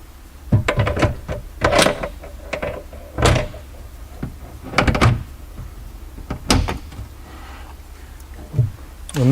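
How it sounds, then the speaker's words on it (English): A bathroom vanity cabinet door is handled during reinstallation, giving a series of sharp knocks, clicks and thunks spread irregularly over several seconds, close by with no talk. "reinstall your door"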